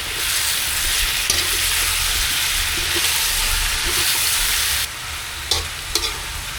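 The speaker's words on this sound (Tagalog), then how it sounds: "lagay nyo na yung chicken, no? Hayaan nyo muna mag-toast onte. Halo natin." Chicken pieces browning with tomato in a pan for chicken afritada, a loud continuous sizzle that drops a little partway through, followed by a few stirring scrapes and clinks.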